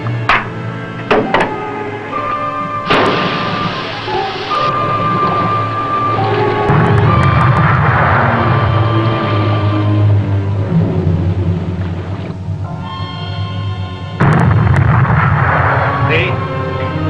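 Submarine torpedoes strike their targets with deep rolling booms and a long rumbling blast, loud and heavy, with a second surge of noise later, among shouting voices and alarm-like tones.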